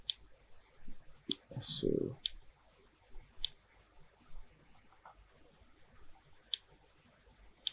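Mouse clicks while working in Clo3D software: a handful of sharp, isolated clicks spaced a second or more apart, close and crisp, with a short spoken word and a faint rustle near the start.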